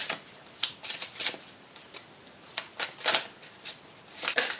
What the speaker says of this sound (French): Je vais brasser un peu plus